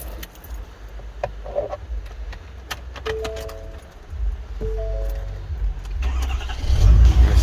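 A 2019 Ford F250 pickup with the 6.7 diesel cranks and fires up after a brief jingle of keys, then settles into a loud, close idle with no talking.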